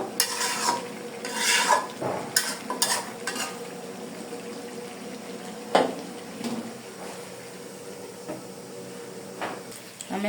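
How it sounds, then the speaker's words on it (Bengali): Beef curry with bottle gourd sautéing in a pan, with a soft background sizzle broken by scraping and clattering stirs against the metal, a sharper knock near the middle. "ভালো করে আমি কষিয়ে নিতেছি আমার প্রায় কষানোটা হয়ে গেছে"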